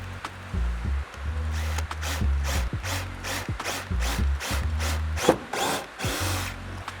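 A hand drill reams out a rivet hole for a jet ski seat strap in short repeated bursts, the motor spinning up and stopping several times with rubbing and clicking between runs.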